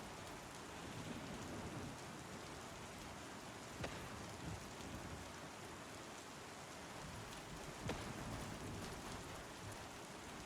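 Steady rain pattering onto puddles in the Star Citizen video game, a dense even hiss throughout with two faint sharp ticks, no voices.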